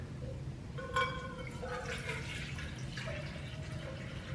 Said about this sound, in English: So if I pour water in here,